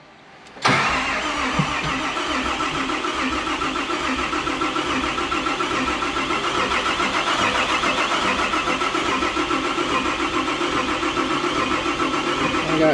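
A rebuilt John Deere 6090 9.0L diesel engine in an 850J cranks briefly and fires, then settles into a loud, steady, rough-edged running drone that continues for over ten seconds.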